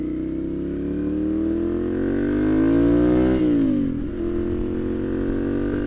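A Ducati Monster 696 motorcycle engine revs up loudly, its pitch climbing steadily for about three seconds before dropping sharply and settling back to a rough idle, close to the microphone.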